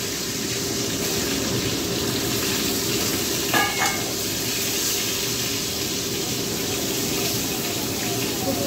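Potatoes dropped into hot oil with dried red chillies and bay leaves in a pan, a loud continuous sizzle and crackle close up, with a short clatter midway and no talking.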